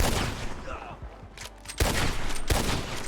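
Gunfire in the RedM western roleplay game: two sharp, loud shots about a second apart, each followed by a brief burst of noise, with quieter rustling and faint ambient sound before them.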